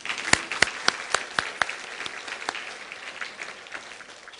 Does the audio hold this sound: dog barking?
no